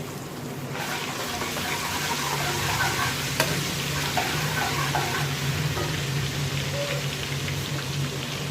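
Garlic and ginger paste sizzles steadily in a hot pan for a curry-style aloo gosht, with a constant crackling fry, occasional stirring scrapes and a faint clink.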